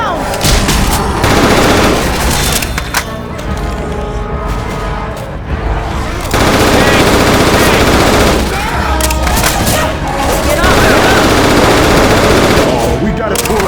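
Gunfire in the Left 4 Dead 2 zombie shooter game, with dense, loud bursts of rapid automatic shots running almost continuously, briefly easing before resuming, while someone talks over parts of it.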